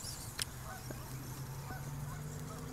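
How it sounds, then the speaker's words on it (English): A goose-like bird honks while chasing a 2S LiPo-powered RC truggy outdoors, one sharp nearby honk standing out early over a steady background hum and faint engine-like drone. "Look at that bird chasing this."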